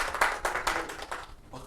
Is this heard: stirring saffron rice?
no